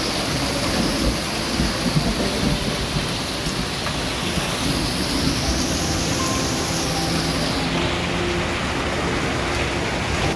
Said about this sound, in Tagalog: Naku, lakas na ng ulan.